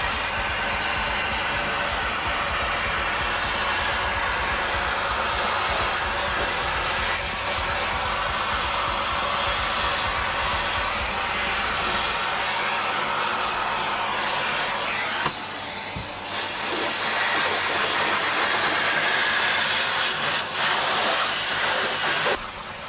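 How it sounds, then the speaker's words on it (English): Vacuum cleaner held over a guitar fretboard and body, sucking up dirt, with a steady loud whooshing hiss running throughout, dipping slightly partway and then surging back. "I'd say we take the vacuum cleaner"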